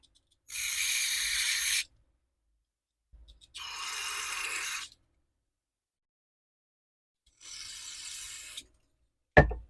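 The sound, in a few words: spraying carburetor cleaner on jets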